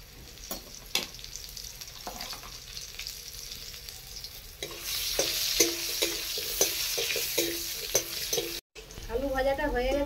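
Potatoes frying in a pan with a pinch of salt, a soft sizzle punctuated by sharp spatula taps and scrapes, growing louder and busier midway, with a short voice-like sound at the end.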